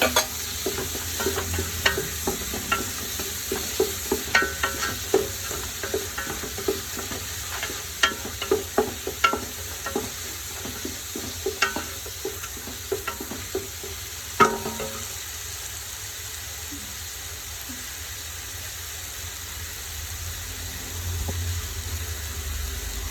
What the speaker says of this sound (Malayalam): വെളുത്തുള്ളി ഇഞ്ചിയും ചതച്ച് വെച്ചത് ഇട്ട് കൊടുക്കാം. പച്ചമുളകും കൂടെ ചേർത്ത് കൊടുക്കാം.